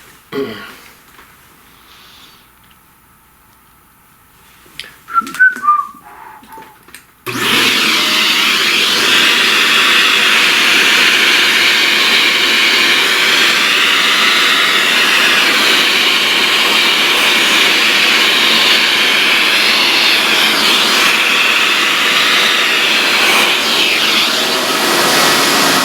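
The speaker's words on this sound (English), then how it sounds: "Alright, let's vacuum all this up." A vacuum cleaner switches on after a few seconds of quiet handling and runs loud and steady for the rest of the clip, sucking up pastel dust from a drawing surface.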